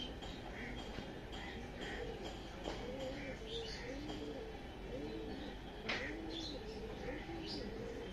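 Blue-barred tournament pigeons coo softly and repeatedly in a loft, low rolling calls overlapping steadily against a faint background hum, with a few light knocks.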